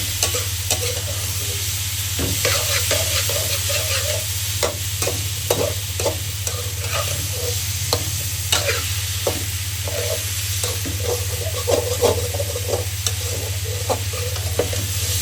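Chicken fries in a pot for chicken pulao, a steady sizzle under a low hum, with repeated spoon scrapes and stirring knocks at an irregular beat. There is no talk.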